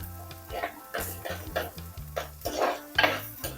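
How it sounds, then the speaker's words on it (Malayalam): Crushed garlic and other ingredients sautéed in a pan for a drumstick curry, with spatula scrapes and metal clinks recurring in an uneven rhythm over a low sizzle, close and clear. "ഇതെല്ലാം കൂടെ ഒന്ന് വഴറ്റിയെടുക്കേ"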